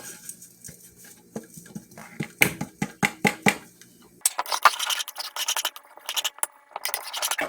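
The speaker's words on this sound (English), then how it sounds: "now I'm going to add my walnuts, which I've toasted in the oven with the cake" Toasted walnuts scattered onto a Texas sheet cake in a 13x9 pan, a run of light crisp patters and scrapes, close and irregular, falling in quick bursts with no talking.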